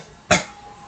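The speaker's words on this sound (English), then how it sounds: "I've been coughing, which is weird" A single short, sharp cough from a man, loud and close, followed by quiet room tone.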